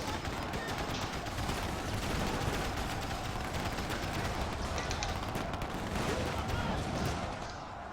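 A Danger Close artillery barrage in the strategy game Rise of the Reds: dense, continuous volleys of shell blasts and rattling gunfire pounding without pause, loud and close, fading slightly at the end.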